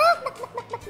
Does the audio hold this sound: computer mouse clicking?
no